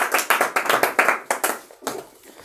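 A classroom of students applauds during a Class 10 Sanskrit quiz, with quick rhythmic bursts of clapping that are loud and close at first and then trail off into scattered claps.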